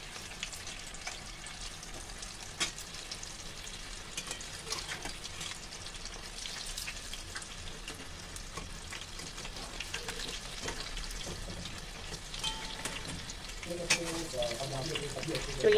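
Green chillies and aloo-besan vadas frying in hot oil, a steady crackling sizzle running throughout with occasional clatter of utensils and a brief voice near the end.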